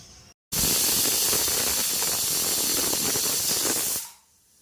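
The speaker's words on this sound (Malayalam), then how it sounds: "സ്റ്റീം നന്നായിട്ട് വന്നു. നമ്മളതിന് വെയിറ്റ് ഇട്ട് കൊടുക്കുന്നു." Steam from a pressure cooker cooking beef hisses loudly and steadily for about three and a half seconds after a brief gap, then cuts off abruptly, with no voices.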